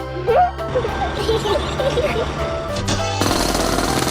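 Cartoon drilling machine hammering at a big rock at a construction site, a loud, steady rapid jackhammer-like rattle throughout with music and voices mixed in.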